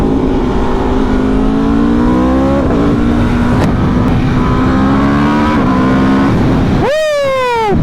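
A 2024 Aprilia RSV4 1100 Factory V4 superbike engine revs loud and close, its pitch climbing through several gear changes as the bike pulls away, then a sharp, high rising howl bursts in at the end.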